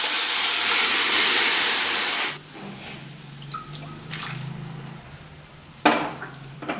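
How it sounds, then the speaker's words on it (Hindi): Cooked dal poured into a hot tempering of mustard seeds, red chilli and curry leaves for sambar: a loud, steady sizzling hiss for about two seconds, then faint bubbling, light clinks of a pan and one brief clatter. "अब ये दाल इसमें मैं डाल दूंगी"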